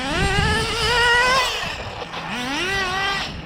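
A Team Losi XXX-NT nitro RC car with an OS 12CV engine on 30% nitro fuel revs in a high, buzzing whine that climbs, wavers and drops, then climbs again, loud and near.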